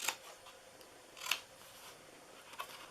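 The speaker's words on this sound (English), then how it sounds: "And then I'm going to cut into this so it folds easier into the box." Scissors snipping paper while cutting flaps for a homemade birthday treat box, three short crisp cuts spaced apart, fairly faint and close with no talking.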